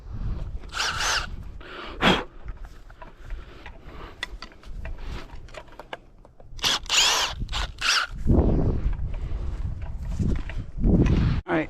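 Power drill backing screws out of concrete slab forms outdoors, several short whirring bursts separated by clunks, scraping and footsteps, fairly close.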